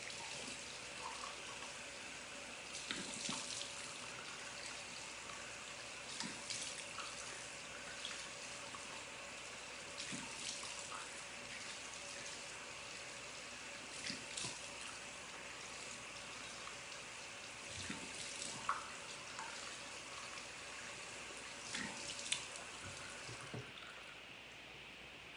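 Tap water runs steadily into a sink while someone rinses their face during a skincare routine, a soft, continuous splashing with occasional louder splashes and no talking.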